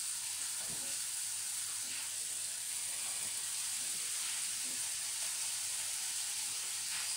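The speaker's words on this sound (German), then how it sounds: "Die lassen wir jetzt schön anbraten." Steady, dense sizzling of chicken breast searing in a hot pan, continuous and close with no talking.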